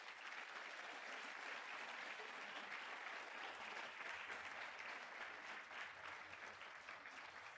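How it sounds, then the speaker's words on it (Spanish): A church congregation breaks into sustained applause, loud and steady throughout with a dense wash of clapping and no speech over it. "Den un aplauso al Señor"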